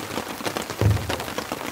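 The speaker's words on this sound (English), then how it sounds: "Whoa, the rain's coming down pretty heavy now." Heavy rain pattering steadily on a tent at a campsite, a dense hiss of drops with a few louder hits, close and continuous with no talking.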